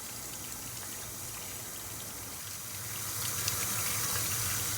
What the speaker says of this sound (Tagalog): hugasan lang natin yung ating bones ng at least 3 times